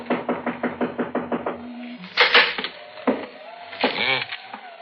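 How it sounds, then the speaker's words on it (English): Rapid knuckle knocks on a wooden front door at an old house with a rocking chair on the porch: a quick run of about nine even raps, then a few heavier irregular thumps and creaks, close and clear. "I guess we knock."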